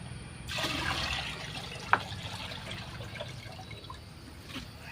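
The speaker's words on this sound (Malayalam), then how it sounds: "അപ്പോൾ അതിലേക്ക് നമുക്ക് ഈ പച്ചവെള്ളം കൂടെ ഒഴിക്കാം." Plain water pours into a 10-litre bucket as part of an organic slurry mix, a steady rushing splash that fills the scene for a few seconds, with one sharp knock partway through.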